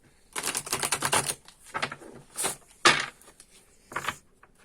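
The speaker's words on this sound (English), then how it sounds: "So let's give everything a really great shuffle" Deck of tarot cards being shuffled, with a rapid riffling burst at first, then several shorter separate flurries and slaps, close and clear.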